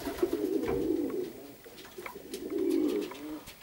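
Perm pigeons released from the loft and flying overhead, with two soft bursts of low cooing or wing flutter a couple of seconds apart, moderately near, with no talk.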